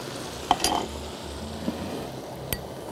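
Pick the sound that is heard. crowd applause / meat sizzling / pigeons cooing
meat sizzling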